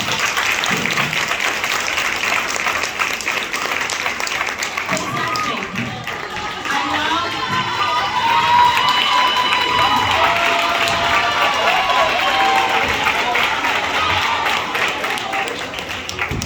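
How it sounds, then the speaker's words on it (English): Audience applause and cheering fill a school honor roll assembly for middle school students, a steady dense clapping crowd with voices rising in excitement partway through, sustained and loud throughout. "Can you give them a round of applause, please?"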